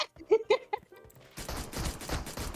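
Rapid gunfire from a weapon in a shooter video game, a dense burst of shots in the second half, following a few short voice sounds.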